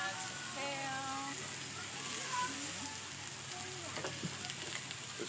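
Kale hits a hot pan of frying apples, onions and browned sliced garlic, a steady close sizzle with stirring clatter, while a person talks over it.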